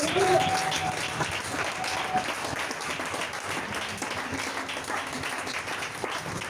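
Church congregation applauding and cheering for Jesus, sustained clapping and crowd noise filling the room at moderate distance, with voices mixed into the applause.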